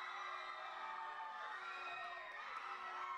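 A crowd at a lucha libre wrestling show in an arena in Zitácuaro, Michoacán cheers and shouts in a steady, distant roar, with applause mixed into the din.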